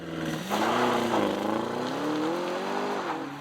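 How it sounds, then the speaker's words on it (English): An Audi RSQ8 or Aston Martin DBX performance SUV pulls away under sustained acceleration, its close, loud exhaust note climbing steadily in pitch without a break. "Vote for your favorite exhaust note."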